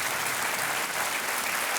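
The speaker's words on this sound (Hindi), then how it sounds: "तालियों के साथ इनका अभिनंदन किया जाए।" Sustained applause from a game show studio audience on Kaun Banega Crorepati, a dense, even wash of clapping throughout.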